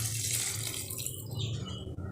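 Water poured from a cup into a pot of mushroom biryani, a steady close splashing gush that runs for about two seconds, alone without talk.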